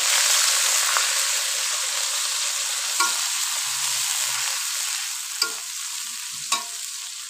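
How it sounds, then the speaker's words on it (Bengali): Ginger and ground cumin paste sizzling in a hot pan while a spatula stirs, a dense continuous frying hiss with a few sharp scrape clicks, alone and close, for a koi fish curry with potato and tomato. "আদা দিয়ে একটু ভাজা নিলাম"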